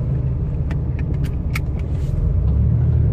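A 1987 Buick Grand National's engine runs steadily with a deep, continuous low rumble, close and loud, broken by a few faint clicks and rattles from inside the car.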